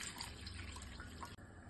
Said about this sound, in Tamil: இது வந்து 1 லிட்டர் தண்ணி.